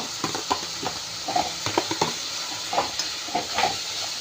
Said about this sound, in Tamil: வதங்குற வரைக்கும் நல்லா கிண்டணும்